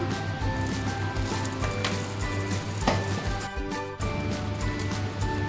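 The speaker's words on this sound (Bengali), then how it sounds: "এই যে ফোড়ন দিয়ে দিলাম জিরে আর শুকনো লঙ্কা" Cumin seeds and dry red chillies crackle and sizzle in hot mustard oil in a kadai, a steady close frying hiss with scattered sharp pops throughout and no talk.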